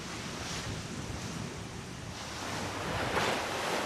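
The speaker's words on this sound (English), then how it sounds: "blasts through 20-foot waves and stiff headwinds" Wind and twenty-foot waves roar steadily on the open sea around a racing sailboat pushing into stiff headwinds during the 1999 Around Alone solo race, with the surge swelling louder toward the end.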